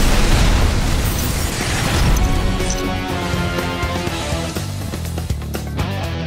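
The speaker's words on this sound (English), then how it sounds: "Bus blows up." A bus explosion in a film: a loud, dense roaring blast that fills the whole clip, rumbling and crackling as it slowly eases off.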